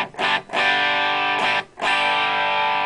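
Electric guitar through a Lenahan Distortion+ pedal set to its lowest distortion, a few sustained, lightly overdriven chords strummed and left ringing, separated by short gaps.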